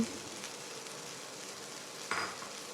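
Pieces of pre-fried rohu fish head and potatoes drop into a hot pan with a steady sizzle and a brief metallic scrape, close by, with no voices.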